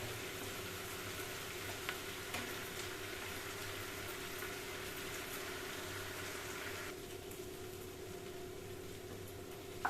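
Vegetables sauté in a pan for brinjal kosthu, a steady, soft sizzle and crackle that continues without a break, close by and with no talk over it.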